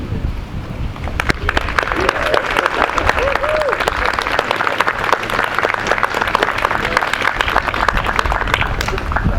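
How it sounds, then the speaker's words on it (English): A crowd at an outdoor groundbreaking ceremony for a mill claps loudly and continuously for several seconds, dense overlapping applause close to the microphone, with faint voices and some wind noise underneath. "everyone can acknowledge you with a round of applause"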